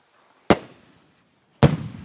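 Two firework rockets go off about a second apart. Each is a sharp, loud crack followed by a short fading crackle, with near-silence between them.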